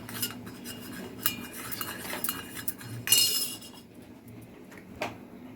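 A spoon stirs salt into juice, clinking lightly against the glass in a series of quick, small taps with one brighter ring, close and quiet.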